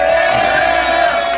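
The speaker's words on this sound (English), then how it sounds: "Let's have a round of applause for PonyBoy" A crowd at an open jam night cheers and whoops for a band, a loud, continuous roar of voices close by with no clear individual words.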